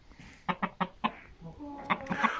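An Indian rooster and chickens on a village farm give a short series of close, loud clucks, four or five in quick succession, followed by softer, higher calls.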